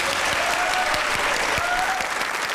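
A studio audience applauds on a comedy talk show, a dense, steady wash of clapping that stays loud and even from start to finish.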